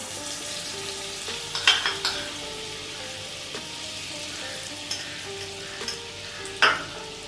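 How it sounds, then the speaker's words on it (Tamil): Butter melts in a hot pan for a paneer gravy, giving a steady close hiss of sizzling with a few brighter crackles and pops scattered through, alone without any voices. "ஃபர்ஸ்ட் வெண்ணெய் போட்டுடலாம்"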